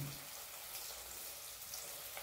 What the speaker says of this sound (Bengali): এখন তেলটা গরম হয়ে গেছে, এবার এগুলো একটা একটা করে দিয়ে ভেজে নেব